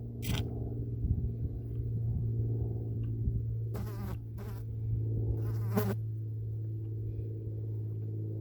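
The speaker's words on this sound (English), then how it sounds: "I'm competing with yellow jackets." Yellow jackets swarm thickly around a small rock-sheltered puddle in drought country, a steady close insect buzz droning throughout with a few brief louder bursts as wasps pass near.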